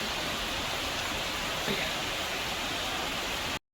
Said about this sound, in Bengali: কি জোর বৃষ্টি পড়ছে